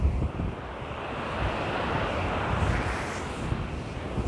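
Sea waves surge at the Thames estuary where the river meets the ocean, a loud, continuous rushing roar close by, with heavy wind buffeting the microphone and no one speaking.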